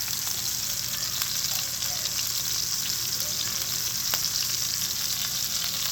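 Chuck roast searing in a hot pan, a continuous soft crackling sizzle with a few sharper pops, steady and fairly quiet throughout with no talking.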